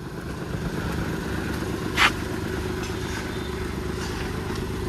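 A vehicle engine runs at a steady low rumble while being maneuvered out at a wedding home, with one brief sharp sound partway through.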